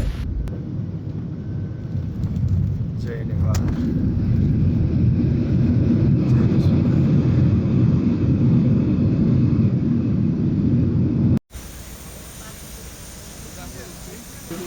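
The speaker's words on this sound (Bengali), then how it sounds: "আমরা নেপাল চলে আসছি এখন বিমানটি ল্যান্ড করবে" Loud, steady low roar of a jet airplane cabin during descent into Kathmandu, Nepal, rumbling continuously, then cutting abruptly to a quieter hum near the end.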